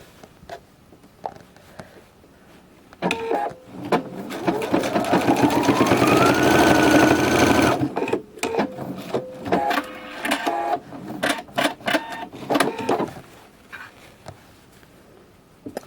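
A sewing machine stitches a quilt with cotton quilting thread, starting with a few short taps, then running in a sustained fast whirring burst before breaking into a series of short stop-start stitching runs.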